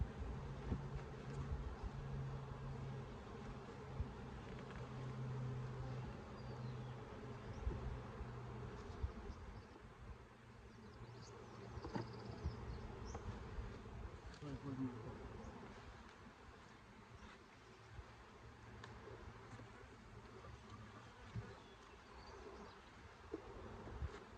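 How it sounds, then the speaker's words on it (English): Honeybees buzzing in an open hive during a first spring inspection, a steady low drone close by with faint birds and occasional handling knocks. "I just don't think there's enough bees in here, in this hive right now"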